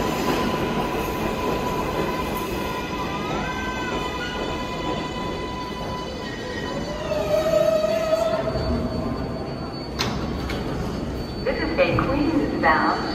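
An R188 subway train on New York's 7 line rumbles and squeals along the rails at Times Square–42nd Street station, wheels screeching in long tones while the car rattles; a voice announces the eastbound 7 Express partway through.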